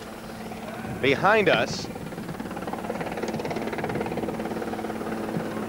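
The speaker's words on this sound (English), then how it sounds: "another helicopter is apparently landing for security purposes" A helicopter comes in to land at the 1984 Paralympic Games opening ceremony in New York, its low rotor-and-engine drone steady and mid-distance beneath a commentator's talk.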